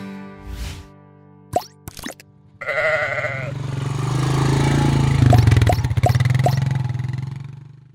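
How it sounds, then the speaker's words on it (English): Ewes bleating in a lambing shed, several loud wavering bleats overlapping, with short plopping knocks early and a steady low hum underneath. "Lots of ewes in the lambing shed."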